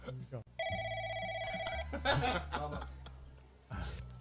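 A telephone ringing as a sound effect, a steady electronic trill lasting over a second, then someone chuckling and a voice speaking over a low hum.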